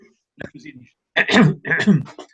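A person clears their throat in a short rough burst, followed by a couple of louder throaty vocal rasps up close.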